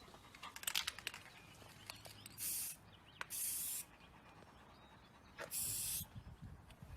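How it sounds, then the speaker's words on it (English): Spray paint hisses onto a rain barrel through a paper cloud stencil in three short, close bursts, with faint clicks and handling noises between them. "I've already started spraying some clouds with like this simple templates"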